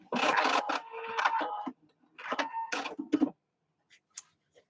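A sewing machine stitches a bucket hat seam in a few quick bursts of rapid mechanical ticking, close and fairly quiet, separated by short pauses and faint clicks at the end.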